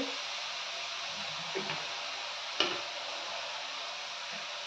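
Sliced onion with turmeric frying in a pan gives a soft, steady sizzle that stays faint throughout, broken by a couple of light clicks from stirring.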